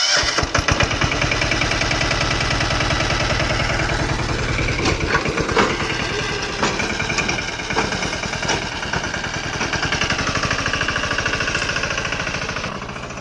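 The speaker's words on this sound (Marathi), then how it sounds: "या ट्रॅक्टर चालू होताना दाखवतो" A farm tractor's diesel engine cranks and fires, then settles into a loud, rapid knocking chug that runs steadily close by before easing slightly at the end.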